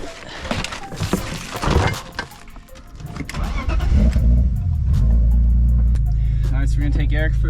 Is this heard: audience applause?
no